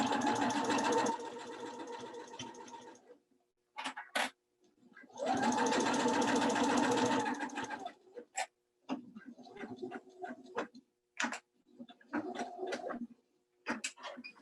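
A sewing machine stitches a quilted Christmas throw pillow in long, rapid buzzing runs broken by pauses, followed by short bursts for back stitching at the end.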